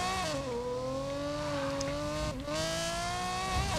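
A car engine in the racing game Need for Speed Payback holding a high steady drone with clear rising harmonics, dipping briefly as it shifts before climbing again, loud and without voices.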